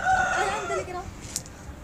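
An Aseel breed rooster gives one loud, close crow that rises and then trails off, followed by near silence.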